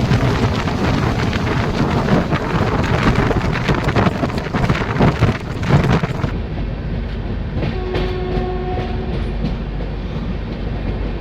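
Rain falls at Kishanganj station as a delayed Garib Rath Express train rolls in, the loud rumble and clatter of the carriages giving way to a softer, steady hiss with faint tones.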